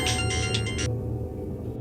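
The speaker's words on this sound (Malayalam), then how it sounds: "എന്താ പൊട്ടിയ ഫോണിന്ന് ശബ്ദം വരുന്നത്?" A phone ringing in a room: a bright, repeating electronic ringtone plays for nearly a second, then cuts off abruptly, leaving a low room hum.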